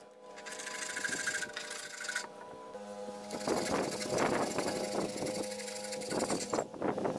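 Wood is sanded by hand for a wooden spray paint storage rack, close raspy rubbing strokes in uneven bursts with short pauses between them.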